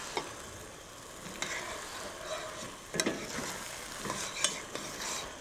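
Balsamic vinegar cooking down with onions in a pan, a soft continuous sizzle with occasional scraping stirs and brief clinks, quiet and close, with no talking.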